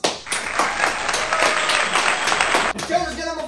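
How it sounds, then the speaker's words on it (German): Studio audience applause and clapping at a German YouTube show recording, a dense burst of hands lasting a few seconds before cutting off, with a voice speaking briefly at the end. "Einmal Applaus."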